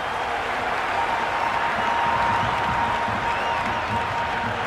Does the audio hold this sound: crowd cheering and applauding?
yes